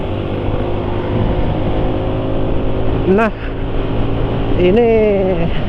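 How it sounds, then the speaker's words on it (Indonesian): A steady, smooth petrol engine hums at an even idle with a faint background hiss, while a voice briefly speaks over it. "kondisinya suara mesin betul-betul halus"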